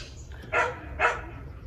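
Neighborhood dogs bark on a residential street: two distinct, moderately distant barks about half a second apart over faint background hum.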